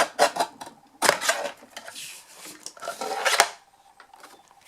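Card stock being cut by hand for a Christmas slimline card, a series of crisp rasping snips and scrapes in irregular bursts, close and fairly soft, with no talking.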